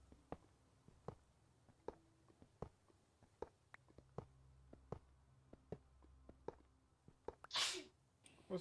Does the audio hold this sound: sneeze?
yes